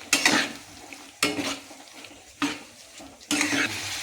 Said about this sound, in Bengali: মশলার সাথে একটু পটল আলুটাকে আমি একটু কষিয়ে নেব